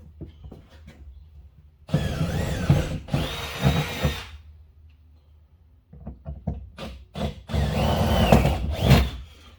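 Two stretches of power drilling through the body of a 1974 Ford F100 truck from the outside, each a couple of seconds of rising, straining whine, with clicks and knocks in the quiet gap between.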